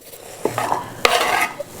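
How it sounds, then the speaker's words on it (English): Scraping and stirring of borshch vegetables in a frying pan with a soft sizzle of vegetable oil frying underneath, a couple of sharp utensil clinks, close up. "we'll take vegetable oil, put it in the frying pan"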